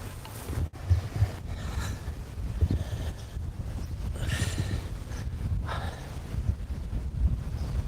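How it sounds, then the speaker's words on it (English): Strong wind buffets the microphone outdoors during a rewilding walk, a constant low roar with gusty surges that swell and ease throughout, loud and close with no other sound standing out. "God, it's windy."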